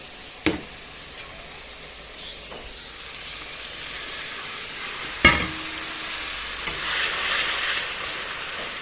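Vegetables fry in oil in a pan with a steady hiss and sizzle that grows louder partway through, broken by a few sharp clinks and scrapes of stirring.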